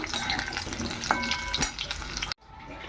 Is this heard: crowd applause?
no